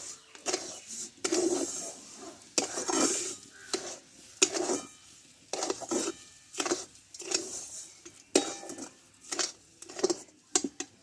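Sago and sugar are stirred in a pan for sabudana laddoos, making repeated bursts of gritty scraping and clinking from the spoon against the pan, separated by short pauses.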